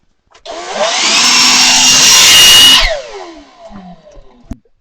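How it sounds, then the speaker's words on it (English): A DeWALT FlexVolt 60 volt cordless blower spins up, roars loudly and steadily for about two seconds, then winds down with a falling whine and a few handling clicks. "It better work on this guy here, the FlexVolt 60 volt blower."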